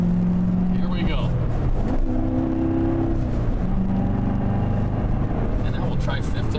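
A 2014 Corvette with a seven-speed gearbox pulls along a freeway, its engine droning and rising in pitch as it accelerates through gears, heard from inside the cabin with steady road and wind noise.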